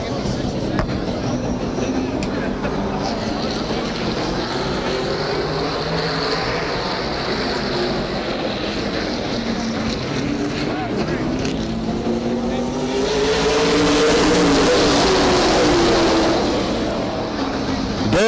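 Race cars circle Redwood Acres Raceway during the Rhododendron 100, a continuous engine drone with rising and fading passes, loudest near the end, while an announcer talks over the racing.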